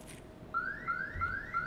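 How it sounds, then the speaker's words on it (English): A car alarm blares inside the shooter game Escape from Tarkov, a rising whooping tone repeating about four times in quick succession, distant and moderately faint over a quiet background. "I've been hearing the alarm the whole time. It's really obnoxious."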